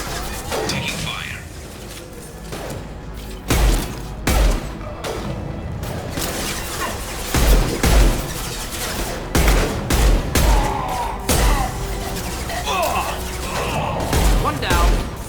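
Gunfire in the video game Mass Effect 2, a sequence of sharp shots and impacts scattered irregularly through a busy combat mix, with voices talking over the action.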